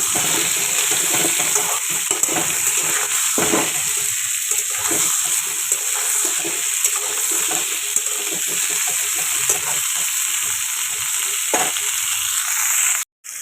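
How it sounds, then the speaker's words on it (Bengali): Pointed gourd frying in a pan with turmeric and salt, an even, continuous hiss of sizzling oil with occasional stirring scrapes, close and unbroken for over ten seconds. "এবারে পটলগুলো আমার ভাজা হয়ে গেল"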